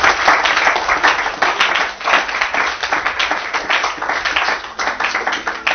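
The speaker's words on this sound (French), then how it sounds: "Acclamons le Seigneur Jésus-Christ" A church congregation applauds together, dense, loud and sustained clapping from a crowd that ripples steadily throughout.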